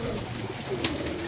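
Pigeons coo in a low, steady murmur close by, with a brief sharper noise partway through and no talking.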